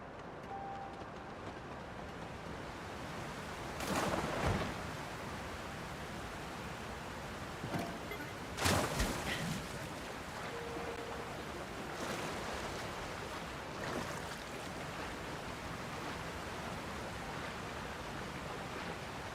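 A waterfall in the video game Zelda: Tears of the Kingdom makes a steady, broad rushing roar of falling water, with a few brief louder surges rising over the constant wash.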